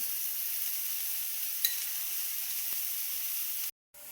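Chopped tomatoes with salt sizzle as they sauté in a pan, a soft steady frying hiss with a faint clink partway through before the sound cuts out briefly near the end.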